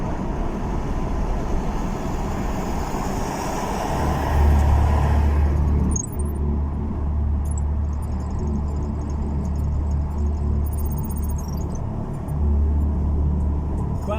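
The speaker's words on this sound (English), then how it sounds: "My car makes that noise." Car interior while driving, a steady low rumble of road and engine noise with faint whirring above it, continuous and moderately loud with small swells and no speech.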